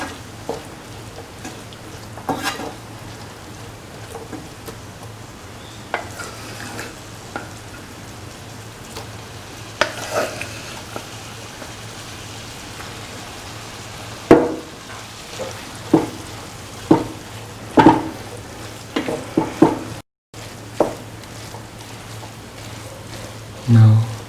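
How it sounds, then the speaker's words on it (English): Cooked rice stirred into a lemon chickpea mixture in a hot pan, a steady sizzle under irregular spoon scrapes and knocks, close by, with a voice speaking quietly in the background. "put in the rice little by little, which we had cooked earlier, and mix"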